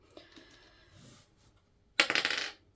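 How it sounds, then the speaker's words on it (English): A 10-sided die is rolled on a hard surface: faint small taps at first, then a sudden bright clatter of quick rattling bounces that dies away within half a second, close by and alone. "I'll just roll a 10-sided dice"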